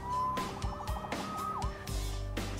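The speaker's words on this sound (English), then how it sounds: "Saved by the siren." A police siren wails loudly and close, its rising and falling tone sweeping continuously over low rumbling traffic.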